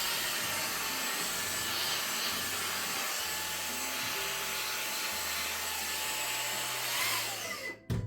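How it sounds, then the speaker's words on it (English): Vacuum cleaner sucking grounds out of an opened coffee grinder, a Starseeker E55, a steady close, loud whirring drone that cuts off abruptly near the end. "I use the vacuum."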